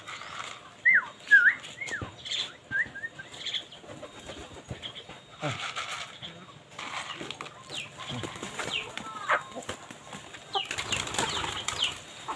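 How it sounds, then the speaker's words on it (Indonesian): Pigeons being fed flutter and coo nearby, wings flapping in bursts, with a few soft chirps and whistles scattered among rustling movement. "Kita akan memberi makan burung merpati pada hari ini ya"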